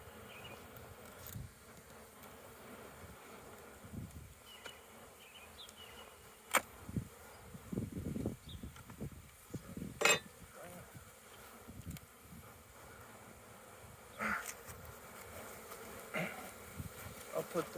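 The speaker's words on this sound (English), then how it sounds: "we want to see how the bees are doing" Honey bees buzzing around an opened beehive on an urban farm during a hive split, a faint continuous hum with occasional louder passes of single bees close by, and a few knocks and handling noises.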